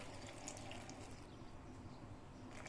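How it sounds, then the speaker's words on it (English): Steady, faint rush of water pouring continuously into a blender, with no voices. "I'll be adding little water."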